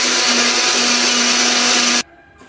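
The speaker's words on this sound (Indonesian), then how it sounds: "Setelah itu kita akan blender lagi." A kitchen blender whirs loudly and steadily, mixing a batter of flour seasoned with salt, flavour enhancer and pepper, then cuts off abruptly, leaving a quiet room.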